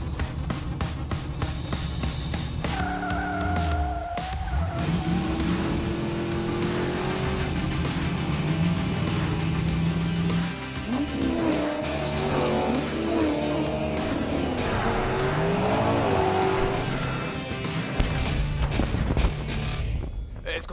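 Hot Wheels race cars roar and rev continuously with squealing tires and shifting engine pitch, loud and close, with bursts of talking over the racing noise.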